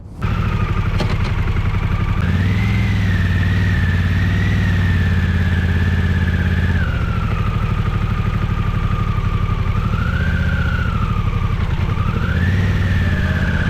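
A Harley-Davidson Pan America motorcycle rides a coastal road, its engine a loud, steady drone that rises and falls with throttle changes over about fourteen seconds, with no talking.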